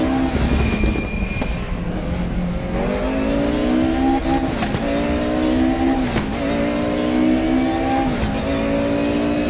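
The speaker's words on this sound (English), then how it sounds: "a lot of people have praised the engine sound of RaceRoom" A DTM Mercedes race car engine in the RaceRoom video game roars continuously on the Nordschleife, its pitch rising and falling with gear shifts and acceleration, loud and steady throughout.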